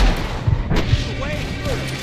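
Missile explosions and gunfire in a Red Dead Redemption 2 epilogue firefight with cowboys, booming blasts and scattered shots rumbling under shouted voices.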